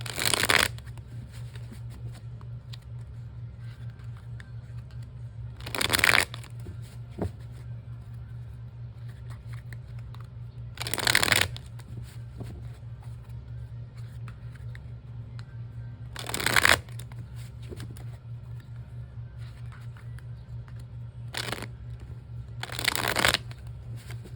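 A thick tarot card deck is shuffled in repeated short bursts, each a loud riffling rush, roughly every five seconds with a quiet steady hum between them.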